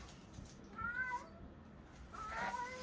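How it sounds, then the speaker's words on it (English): A cat meows faintly twice, one short call then another a second later, both quiet against low background noise. "I don't know if you can hear the cat."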